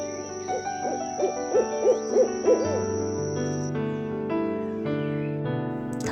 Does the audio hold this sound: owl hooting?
yes